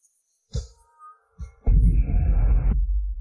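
A low, throbbing heartbeat effect, played as an irregular beat: a few muffled thumps, then a heavy sustained rumbling pulse that swells and fades out, close and alone.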